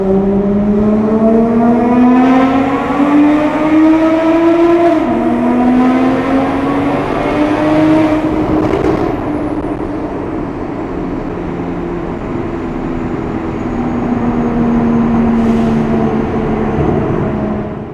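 An HKS widebody MK5 Supra running a 15 PSI base map on 93 fuel, its engine droning and revving up in loud, rising pulls with a shift and steady cruising note, close and alone.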